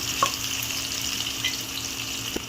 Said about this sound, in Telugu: బిర్యానీ ఆకుల వల్ల కొంచెం ఫ్రై అవ్వాలి